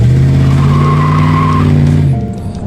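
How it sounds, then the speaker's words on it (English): An old truck with no exhaust doing a smoky burnout, its tires squealing loudly in a sustained screech over a droning engine, close and steady, then cutting off. "Smoky burnouts and bad decisions about to happen"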